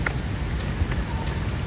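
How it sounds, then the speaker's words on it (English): Heavy tropical rain falling in Fort Canning Park, Singapore, a dense, continuous wash of close pattering that stays loud and steady throughout, with no talk. "It's raining really hard,"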